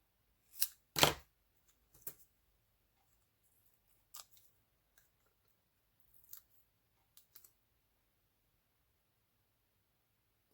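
Scissors cut a clear mount stamp sheet in half with a couple of crisp snips up front, followed by sparse quiet clicks and handling noises in an otherwise silent room.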